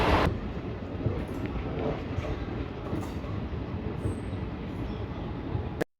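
The Udhampur Express rushes past close by in a continuous loud roar of rumbling and clattering wheels that lasts several seconds before cutting off abruptly.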